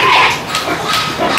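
Pigs being loaded into a truck at a pig farm, loud close squeals and grunts overlapping continuously amid shuffling, with no talk.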